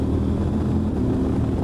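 A CF Moto 1000 MT-X motorcycle engine pulls under throttle with a steady, dense drone held at constant loudness throughout, close by and with no talking.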